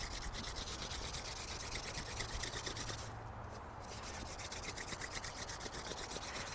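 A wooden spindle is spun against a board to try to make a friction fire, producing a continuous faint rubbing and rasping with quick back-and-forth strokes and a brief pause midway.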